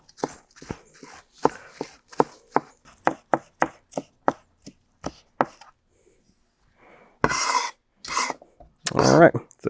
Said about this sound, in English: And then I'm going to take basically everything down to where the onion proper begins and just slice it